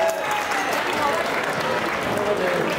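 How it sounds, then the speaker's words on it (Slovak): Audience at the Špačinský kotlík awards ceremony applauding in sustained, dense clapping, with a voice speaking over it. "A ešte raz poprosím, veľký potlesk"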